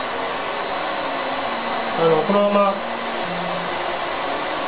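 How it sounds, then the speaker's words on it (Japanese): A hair dryer blows a steady, close whir over digitally permed, medium-length hair, with a short spoken phrase partway through. "でこのままドライヤー当てれば"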